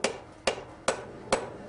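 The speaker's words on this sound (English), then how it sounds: "I'm just bringing it up to a bright yellow heat and hammering it out on the anvil." A smith strikes a forge-welded bar, fluxed and brought to bright yellow heat, on the anvil. Four loud, ringing hammer blows land at an even, steady rhythm, close by, with no talking.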